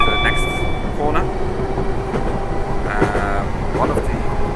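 A train runs along a rail line beside a public footpath near a corner, its steady wheel rumble and clatter filling the scene with a few brief higher squeals on top.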